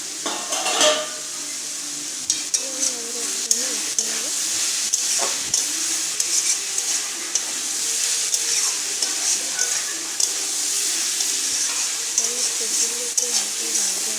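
Small pieces of tomato fry in a pan for vegetarian pasta, with a steady, loud sizzle and hiss close up, broken by occasional clacks of stirring against the pan.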